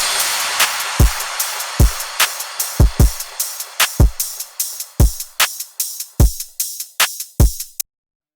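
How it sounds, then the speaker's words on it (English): Hardwave drop drums: punchy kick hits with sharp, bright claps in a driving, syncopated pattern over a hissy wash, loud and dry, with no voices, stopping abruptly near the end. "And then the drop drums sounds like this."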